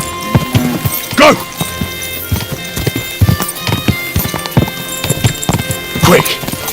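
Horse hooves clip-clopping at a steady gallop in the medieval role-playing game Kingdom Come: Deliverance II, with a few whinnies and other game noises mixed in, running under talk from characters.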